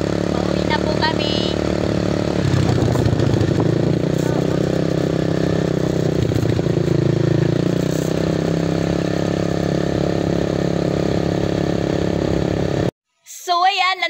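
A motorcycle carrying several riders heads home, its engine droning and revving steadily with wind rush, voices talking faintly over it, until a brief cut to silence near the end.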